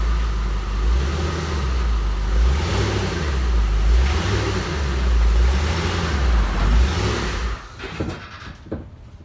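Batmobile car engine idling and creeping slowly forward while being guided, a low pulsing rumble that fades near the end.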